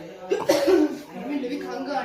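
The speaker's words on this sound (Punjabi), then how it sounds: "ਮੈਨੂੰ ਵੀ ਖੰਘ ਆਣੀ" A person coughs a few times in quick bursts, close and fairly loud, followed by a rough throat-clearing rasp.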